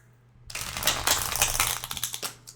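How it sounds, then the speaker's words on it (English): A quick burst of tarot cards being shuffled, a dense riffling rattle lasting about two seconds, close and fairly crisp. "I'm going to shuffle the deck."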